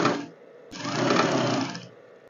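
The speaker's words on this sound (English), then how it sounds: "I sew it just on 1/4 inch space" A sewing machine stitches a quarter-inch seam on an A-line dress: a brief whir, a short pause, then a steady buzzing run of about a second before it stops, close and clear with no talking.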